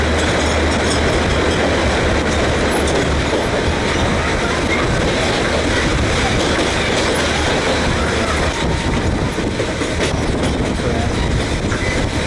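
El Chepe passenger train rolling on rails through the Creel area of Mexico, a loud continuous rumble and clatter of wheels running steadily from near, with no talk.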